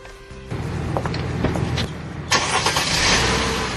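A Mercedes car engine turns over and catches midway, then runs with a steady rumble, close and fairly loud, with mechanical rattles beforehand.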